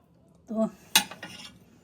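Plates clatter in a home kitchen in a quick pair of knocks: a soft clunk, then a sharper ceramic clink and a brief rattle, all close by in a quiet room.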